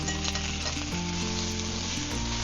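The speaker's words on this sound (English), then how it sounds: "That sizzle." Chopped leeks sizzle in extra virgin olive oil in a hot pan, a close, steady crackling hiss that stays even throughout with no talking.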